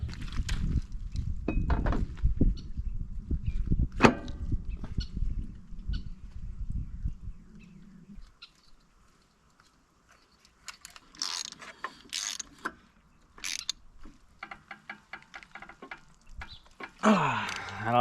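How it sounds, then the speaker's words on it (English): Mechanical clicking, ratcheting and small metal-part handling while a flywheel goes back onto a mouse-damaged Husqvarna lawn mower engine, busy and close at first, then sparser taps and clinks, ending with a brief louder burst. "So let's reassemble the flywheel, get that stuff back"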